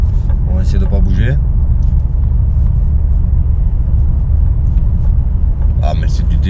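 A BMW 530i's engine drones with a steady, heavy rumble as the car is driven under acceleration, heard loud and close from inside the cabin, with someone talking intermittently over it.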